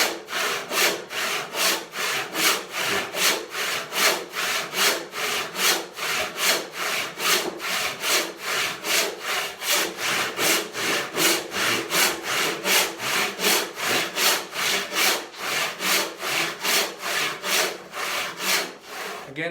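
Hand saw resawing an 8-inch-wide walnut panel: steady, rhythmic push-pull rasping strokes, about two per second, loud and close, continuing without pause and with no talking.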